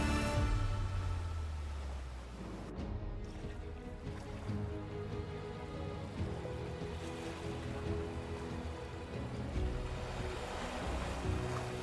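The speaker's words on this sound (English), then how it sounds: "The sound of water tearing through the waves echoes across the rocky shoreline with a deep, thunderous roar" Waves of the freezing Norwegian Sea surge against a rocky granite shoreline in a continuous deep roar, rising and falling steadily with wind, heard alone without voices.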